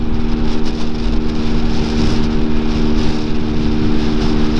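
Peugeot PM-01 motorcycle engine pulling hard to overtake on an open road, a loud, steady droning buzz with faint wind rush, continuous throughout with no talking.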